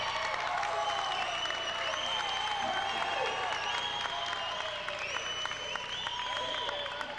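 Crowd applauding and cheering after a made shot at a 1997 junior basketball final, a sustained wash of clapping with whistles and shouts through the whole clip, a commentator talking over it.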